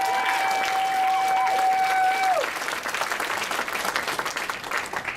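A crowd applauding steadily, dense clapping that carries on after a fading sustained tone at the start.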